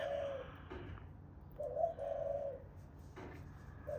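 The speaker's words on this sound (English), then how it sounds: "So now we've got the pigeons, the woot-woo birds." Pigeons coo softly at a backyard seed feeder in a few drawn-out, low calls separated by quiet pauses, with no voices present.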